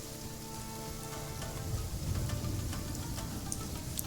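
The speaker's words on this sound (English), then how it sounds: "Oh, this needs the rain gone." Rainstorm in the video game Genshin Impact, a soft, continuous patter of falling rain with faint tonal game sounds underneath, quiet and even throughout.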